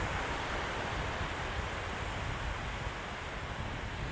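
Steady wind buffeting a microphone on a fishing shore, a constant broad rushing hiss with low rumble, fairly faint and uninterrupted, with no voices.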